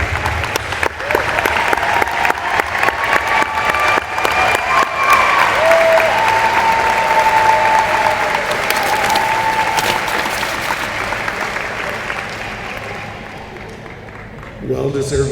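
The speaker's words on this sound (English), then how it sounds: "Well-deserved applause." An audience at a school district general assembly applauds maintenance, transportation and nutrition staff with loud, sustained clapping for about fifteen seconds that fades near the end, with some voices in the crowd.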